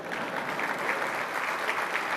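Conference audience clapping, a steady, dense wash of applause from a sizable crowd sustained throughout.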